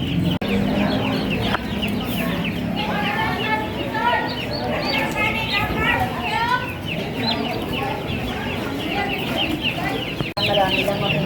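Chickens at a live poultry seller cluck and chatter continuously amid busy crowd noise and nearby voices, the fowl calls fairly close and steady throughout.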